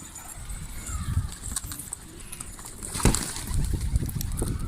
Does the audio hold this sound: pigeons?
yes